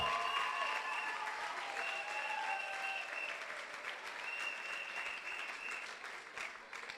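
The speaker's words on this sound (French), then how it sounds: "C'est ça qu'on applaudit." A church congregation applauds during a service, with a full, steady round of clapping that fades slightly toward the end, with faint tonal sounds in the background.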